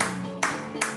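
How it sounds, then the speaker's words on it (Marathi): A few sharp claps, roughly two distinct hand claps in quick succession, from a standing group at a self-love wellness session, close and moderately loud. "स्वतःसाठी टाळ्या वाजवा."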